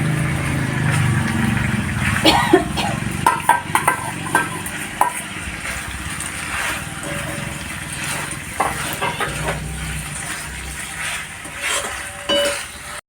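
Chicken being stirred into pasta and reddened spice masala in a home kitchen pan; a steady low sizzle with scattered scraping and clinking of the spoon against the pan, continuous and close.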